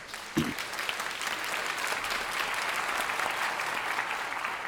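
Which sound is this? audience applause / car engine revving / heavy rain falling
audience applause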